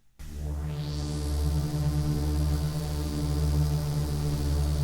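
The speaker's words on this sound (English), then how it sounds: "The third one, we're using the Scary Horror preset." Arturia Scary Horror synth preset: a dense, buzzy sustained drone with a rising bright sweep at the start, loud and unbroken with slight pulsing, no voices.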